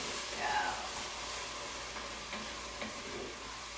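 Black bean soup with a whole jar of salsa being stirred in a hot pan, a steady sizzle and hiss running under scraping stirs, moderately close with faint background voice.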